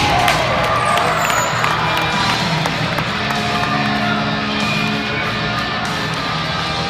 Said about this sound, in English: How about a great big round of applause from Oshkosh, Wisconsin